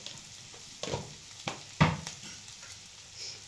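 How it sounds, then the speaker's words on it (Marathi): Salted potatoes are stir-fried in a pan, with a few soft scrapes and stirring strokes over a quiet, steady sizzle close by. "आता चांगलं परतवायचं। आता बटाटाही चांगलं तळलेलं आहे।"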